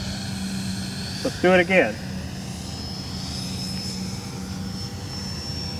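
An E-flite F-15 Toss and Boss electric ducted-fan RC jet whines steadily overhead, a continuous engine tone with pitch shifts as it flies, while someone speaks briefly.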